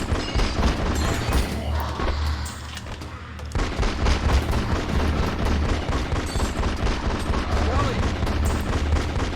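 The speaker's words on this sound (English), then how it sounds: "Now we're gonna shoot the girls." Sustained video-game gunfire from The X-Files: Resist or Serve, with dense rapid shots and booming impacts, briefly dropping out before resuming as a continuous volley.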